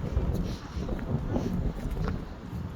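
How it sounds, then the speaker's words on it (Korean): Strong wind gusts buffet the microphone outdoors during exercise on a hot day, a steady low roar with rumbling bursts that runs through the whole stretch. "바람이 너무 많이 불어"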